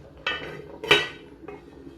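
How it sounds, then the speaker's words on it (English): Three quick metallic clanks ring out close by as a lid goes onto a cooking pot of cassava and beans, the middle knock loudest, with a short ringing tail after each. "We will cover for now and then check on it later."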